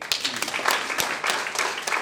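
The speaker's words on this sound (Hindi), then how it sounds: "हम सबके लिए तालियां होनी चाहिए" Applause from an audience at a tax consultants' association gathering in Rajasthan: a steady wash of clapping across the whole stretch, moderately loud, with a few sharper individual claps standing out.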